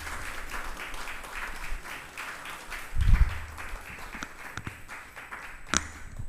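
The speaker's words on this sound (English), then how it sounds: "Please give Michael Lund a bigger round of applause." An audience at a university prize ceremony for investigative journalism applauds in a steady, moderately loud round of clapping that lasts throughout, with a few sharper knocks near the end.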